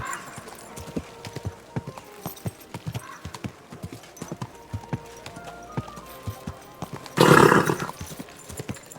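Steady rhythmic clopping of a horse's hooves at a walk, close and clear, with a loud snorting whinny bursting out near the end.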